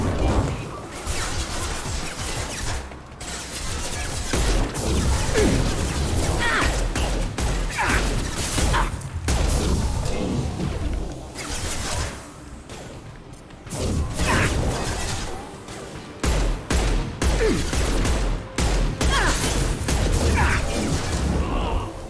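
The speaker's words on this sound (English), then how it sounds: "Who's shooting at me still?" Gunfire in the game Mass Effect 2 crashes and thuds in loud, dense bursts through a chaotic firefight, with brief lulls between volleys and mechanical clatter mixed in.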